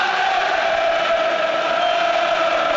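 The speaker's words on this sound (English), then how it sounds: "And the Brighton fans are responding in voice." A Premier League stadium crowd of Brighton & Hove Albion fans roars in a steady, loud sustained chant and cheer, dense and continuous from start to finish.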